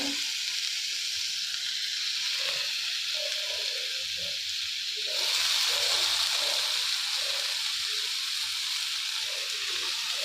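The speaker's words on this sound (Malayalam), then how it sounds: "ഇത് നല്ലപോലെ ഒന്നും കൂടി വഴറ്റിയെടുക്കാം" Tomato sautéing with ginger and garlic in a pan, a continuous close hissing sizzle that swells louder midway, with faint stirring scrapes beneath.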